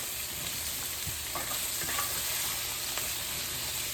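Fresh okra fries in a single layer of oil in a pan, a steady close sizzle with crackling pops running continuously throughout, no voices.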